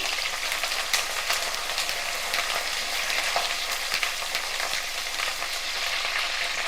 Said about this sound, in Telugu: ఎల్లుల్లిపాయలు అలాగే కరివేపాకు, మన చెట్టు కరివేపాకు, ఇవి కొంచెం వేగనిద్దాము